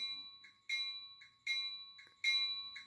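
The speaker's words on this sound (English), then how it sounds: "If I hit the bell" Model railroad locomotive bell sounding from a small sound-equipped engine on a test setup, three sharp repeated electronic dings with ringing overtones at steady intervals, close and clear with no talk.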